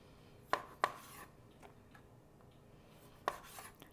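A knife slices cherry tomatoes in half on a cutting board, giving three sharp, close chops in an uneven rhythm, with softer scraping and taps between them in a quiet kitchen.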